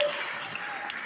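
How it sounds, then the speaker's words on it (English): Applause from a crowd at a political community gathering, a steady, even wash of clapping held through the whole moment at moderate distance, with a faint tone at the start. "give yourselves a round of applause"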